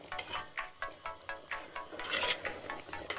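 Cauliflower manchurian being slowly stirred with green coriander in a pan, giving soft repeated scraping and wet sizzling strokes in a steady rhythm, close and quiet with no talk.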